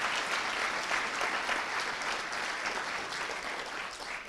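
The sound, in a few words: audience applause at conference closing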